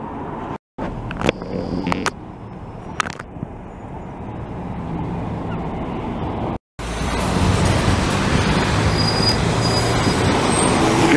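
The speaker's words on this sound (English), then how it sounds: "What's wrong with that bus? It's making a funny noise there. Something in the wheels" An older city bus engine rumbles nearby in Montreal with road noise, brief sharp clicks and squeals from a fault in the wheels, then a louder, steadier roar as traffic builds.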